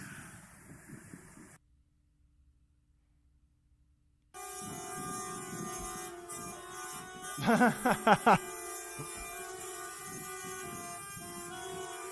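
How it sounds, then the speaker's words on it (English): Several short honks from vehicle horns sounding at street workers, a brief burst of repeated blasts near the middle, over background traffic and voices. "Honking at the guards too."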